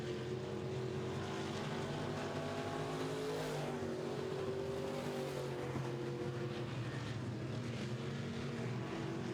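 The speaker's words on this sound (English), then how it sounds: "We'll find out if the 44 car can get by that lap car smoothly." Midwest Modified race cars roar around a dirt oval track, engines droning loudly and continuously as the pack passes, with no talk heard.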